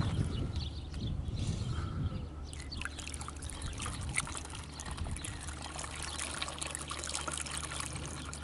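Liquid poured through a funnel into a large three-gallon jug, a steady trickling, gurgling pour heard up close for the whole stretch, alone without talk.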